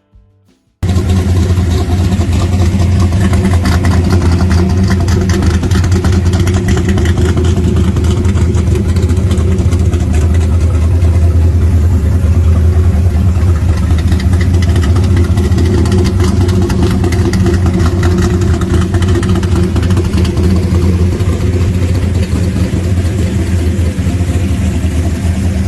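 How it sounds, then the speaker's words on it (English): A 1970 Dodge Dart pro street car with a 522 engine, Indy 441 heads and Indy 4150 intake idles loudly and steadily, a deep rumbling lope filling the whole stretch without pause. "This 1970 Dart is a fully street-legal machine powered by a 522 motor"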